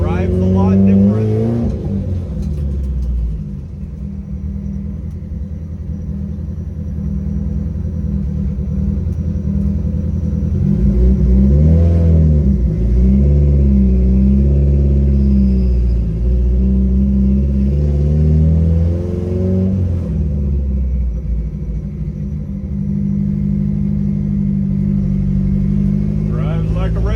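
A Chevy Cruze 1.8 Turbo rumbles along on the road, its engine note rising and falling with a few surges of acceleration, close inside the car, while someone talks over it.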